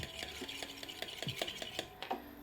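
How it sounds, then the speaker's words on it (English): An egg being whisked in a bowl, quick regular clicking strokes of the whisk against the sides repeating about four times a second, close and fairly quiet. "I started whisking that egg"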